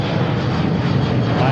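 Roaring engine noise from an Embraer 175 jet airliner at Seattle-Tacoma airport, a loud, dense, continuous rumble with broadband hiss, close and sustained throughout.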